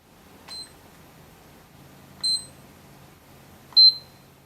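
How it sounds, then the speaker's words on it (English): Three short, clean electronic beeps from a PlayStation 5 console, spaced about one and a half seconds apart and each a little louder than the last, ringing alone over a quiet room. "After more than a decade of PlayStation console beeps when you turn the system on or off, Sony has added the option to let you silence the noise."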